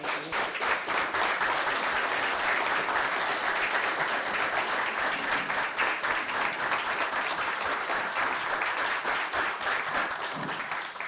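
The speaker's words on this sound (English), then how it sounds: "we just want to applaud you and thank you for who you are and what you do" Steady, full applause fills a school board meeting room in honour of a staff member, sustained and even throughout with no gaps.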